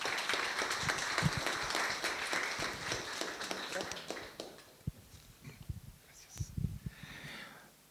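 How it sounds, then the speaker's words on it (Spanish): Audience applause for a speaker at a reflection talk, fairly faint and patchy, fading into scattered claps and movement noise with some voices in the room. "Un aplauso para Juan Pablo."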